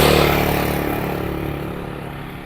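A motorcycle passes along a road in Kuala Kangsar, Perak, its engine loud and close at first, then fading steadily as it moves away.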